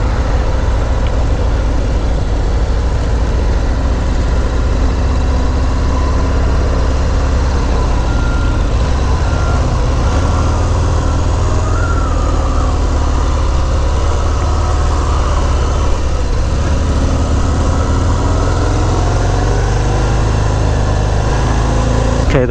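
A 2018 Harley-Davidson Fat Bob 114 rumbles steadily while being ridden. The engine drone is constant and close, mixed with wind noise and no clear speech.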